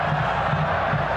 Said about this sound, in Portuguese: Um chute levantou a torcida